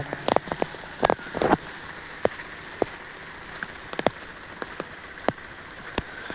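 Rain falling outdoors along a street with small shops, a steady soft patter broken by scattered sharp drop hits at close range, with no talk.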